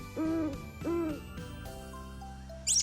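An owl hoots twice in low, tonal calls, each followed by a fainter repeat, then a soft sustained tone and a brief high chirp at the end, heard alone in a quiet setting.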